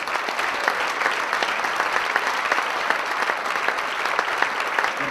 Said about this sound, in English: join me in with a big round of applause for our major sponsor tonight